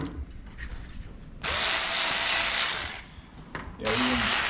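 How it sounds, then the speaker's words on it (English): A cordless electric ratchet, stored unused in a garage for about a year, runs in two loud bursts with a steady high whir, the first lasting over two seconds and the second starting near the end. "you could use that electric ratchet"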